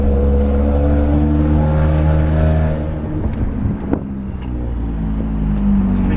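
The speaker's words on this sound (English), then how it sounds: "So we did a couple of pretty hard stops from 40 miles per hour." A 2014–2018 Subaru Forester slows under hard braking from about 40 mph, its engine and road drone heard from inside the cabin and dropping in pitch as the car decelerates, with a faint knock near the end.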